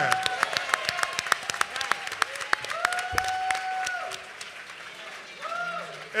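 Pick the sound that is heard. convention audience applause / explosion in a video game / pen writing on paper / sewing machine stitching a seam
convention audience applause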